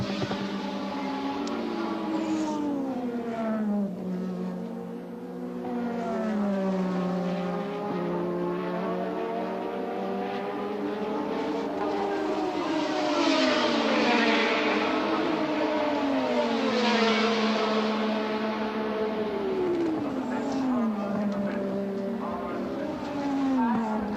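Formula 1 turbo race cars scream around the 1984 Austrian Grand Prix circuit at Spielberg, their engine notes rising and falling steadily as they pass, under continuous race commentary.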